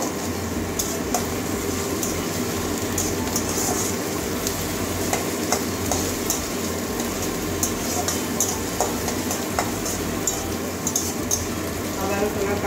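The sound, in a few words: ginger-garlic paste frying in a pan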